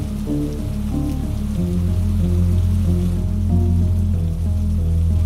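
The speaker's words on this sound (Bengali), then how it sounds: "টিপ টিপ টিপ টিপ করে বৃষ্টি শুরু হলো।" Steady pattering rain on a monsoon evening, a dense continuous patter of drops under a low soft musical drone, filling the whole stretch without any voices.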